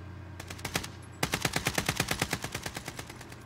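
Automatic gunfire in the video game Call of Duty Warzone, a few spaced shots followed by a fast, even burst of about twenty rounds, close and loud with no talking over it.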